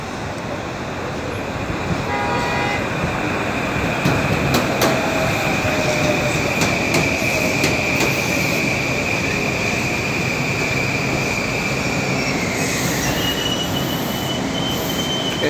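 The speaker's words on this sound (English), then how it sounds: "There is a Manhattan bound train about to pass New Rochelle." Metro-North M8 electric train bound for Manhattan arriving at New Rochelle station, with loud sustained wheel squeal and steady rolling rumble of the rail cars close by throughout, plus brief high tones.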